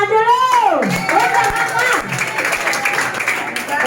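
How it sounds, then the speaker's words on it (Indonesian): A church congregation at a worship service breaks into applause after a quiz question. Scattered clapping and crowd noise build up under a fading voice, and the clapping continues at a moderate level. "Tepuk tangan dulu."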